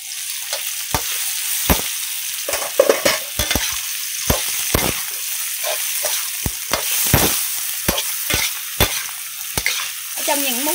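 Straw mushrooms stir-fried with fragrant garlic in a hot pan, a loud steady sizzle broken by frequent sharp scrapes and clacks of the spatula, with no voices.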